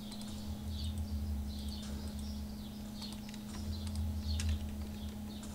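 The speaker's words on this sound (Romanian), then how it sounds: "Trebuie să-mi iau neapărat calul ăla." A horse's hooves clip-clop in Minecraft, light repeated taps in short bursts over a steady background hum.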